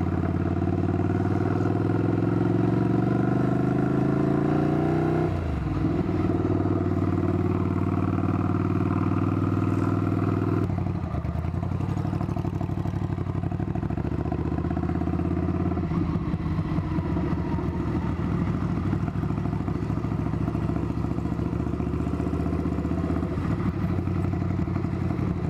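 A 2022 Ducati Scrambler Nightshift runs at close range, its engine shifting pitch as the rider accelerates and rolls along, then falling to a steady lumpy idle with light mechanical clatter.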